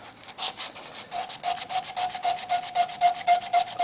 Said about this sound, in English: Sand with the grain this direction if we can.